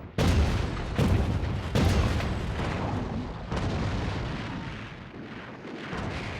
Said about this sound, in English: Bombardment and shelling from the battleships pound the coast, but completely miss their targets on the beach codenamed Omaha.